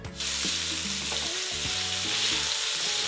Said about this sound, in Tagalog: ginigisa ko na yung bawang doon sa mantika ng pork